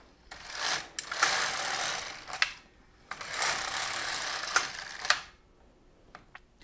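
LK-150 knitting machine carriage pushed across the needle bed in two long sweeps of mechanical whirring and clicking, each ending in a sharp clack, with quiet pauses between.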